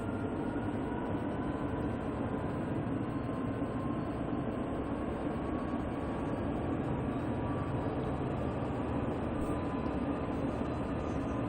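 A train accelerating at notch 5 power in a train simulator game, a continuous low rumbling drone with faint rhythmic rail clatter, steady and moderately quiet throughout with no talk.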